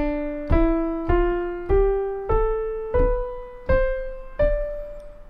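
A piano plays a rising D Dorian minor scale, eight evenly spaced notes, each struck clearly and left to ring, with no voices.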